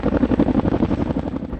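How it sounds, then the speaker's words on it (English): Firefighting helicopter dropping water on remote wildfires, its rotor beating in a rapid, pulsing thump, loud and close, holding steady throughout. "Helicopters are dropping water on these fires in very remote locations"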